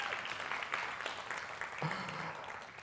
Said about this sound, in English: Can you give our partners a round of applause?